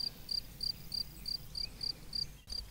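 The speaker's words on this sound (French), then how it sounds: "C'est le grillon champêtre qui se reproduit dans des prairies moyennement humides à sèches." Field cricket chirping in a moderately humid to dry meadow, a loud, regular series of shrill pulsed chirps repeating about every third of a second over faint background hiss.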